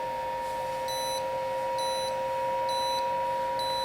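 A Dermrays laser hair removal device running on its highest setting, giving off a steady high electronic whine with a short beep repeating roughly every second over a constant hiss, close and alone with no talking.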